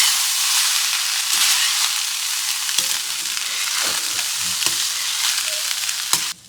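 Food sizzles loudly in a hot pan while being stirred, a steady close frying hiss with occasional scraping knocks from the utensil, continuous throughout before cutting off at the end.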